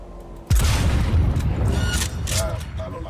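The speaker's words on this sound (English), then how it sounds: "take some people down by a sniper fire" A loud sniper shot from Cyberpunk 2077 gameplay cracks in with a heavy boom, followed by a sustained rumbling tail and dense in-game background noise, with faint chatter and electronic tones in the mix.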